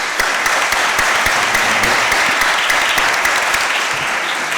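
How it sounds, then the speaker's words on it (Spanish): A conference audience in a hall claps together, dense steady applause holding loud and even for several seconds. "Un aplauso para los..."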